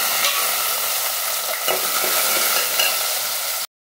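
Onions, green chillies and ginger fry in hot oil in a pan for chutney, a loud continuous sizzle with occasional stirring scrapes, cutting off abruptly near the end.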